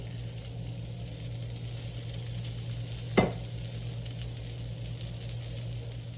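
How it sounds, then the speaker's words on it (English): Black bean burger patties frying in a pan, a steady low sizzle throughout with one brief sharp crackle midway, close and even. "place the prepared patty. And cook them from both the sides till they are nice brown."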